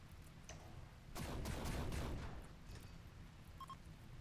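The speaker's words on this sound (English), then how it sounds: "I hear turrets, that's why." Turret fire in a video game sounds as a faint, muffled burst of rapid shots in the middle, distant and low, with no talk.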